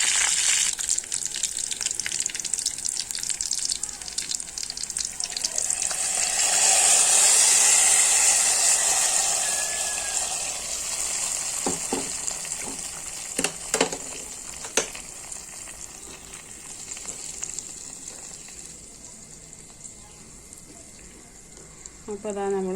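Hot tempering of green chillies and curry leaves poured into a prawn, raw mango, drumstick and jackfruit seed curry, giving a loud hissing sizzle that swells then slowly fades, with a few clinks near the end.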